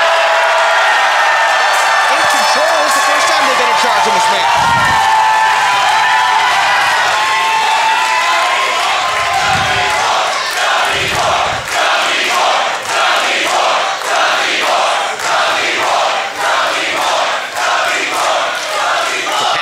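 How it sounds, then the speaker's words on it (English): A capacity crowd at a Pittsburgh wrestling street fight roars and cheers continuously, with shouts and whoops rising in rhythmic pulses toward the end, loud and dense throughout. "capacity crowd here tonight in Pittsburgh getting behind Erica and the Gummy Boar"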